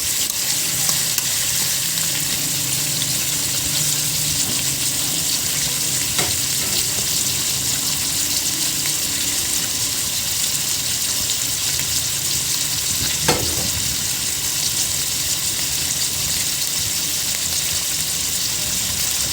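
Pork adobo fries in a pan with a constant close sizzle, broken by a couple of spoon scrapes as it is stirred.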